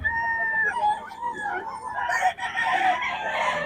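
A young stag rooster in Pampanga crows clearly and close, one full cock-a-doodle-doo call with a faint background of other birds and yard noise.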